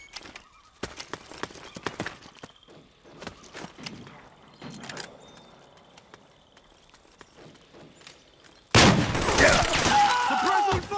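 Sparse video-game gunshots and scattered impacts in a Metal Gear Solid 4 battle, ending in a loud, dense burst of sustained fire, with voices briefly heard amid the action.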